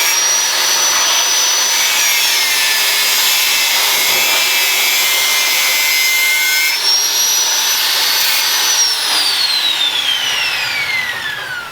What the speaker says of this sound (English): Cutting the next strips for the next 1 metre section.